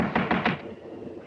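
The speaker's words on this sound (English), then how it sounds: "Better try knocking this time, Watson." Three quick knocks on a room door in an old house, close and firm, followed by a fading low rumble.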